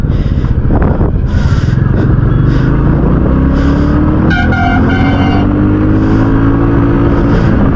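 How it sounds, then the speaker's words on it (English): A 2021 Royal Enfield Classic 350 BS6 motorcycle accelerates hard in first gear, its engine note rising steadily over continuous road and wind noise, loud and close throughout. "First, let me go to the first gear challenge."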